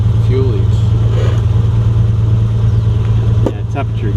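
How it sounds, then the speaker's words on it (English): A 1972 Triumph TR6 engine, recently revived after sitting dormant, idles slightly high with a steady, loud low rumble, while people talk nearby over it. "Idling a little bit high"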